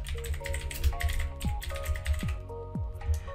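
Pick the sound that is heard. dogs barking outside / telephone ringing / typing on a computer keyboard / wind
typing on a computer keyboard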